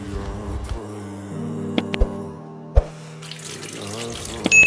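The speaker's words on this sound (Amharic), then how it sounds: "ውሃውን አታባክነው፣ ቀስ እያልክ ታጠብ።" Water running from a tap during washing indoors, a soft steady flow with a few clinks and knocks, plus a brief burst of louder splashing near the end.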